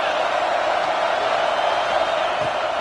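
A packed stadium crowd roaring at an LSU versus Georgia college football game on a big third down, a loud, steady, sustained wall of cheering and noise.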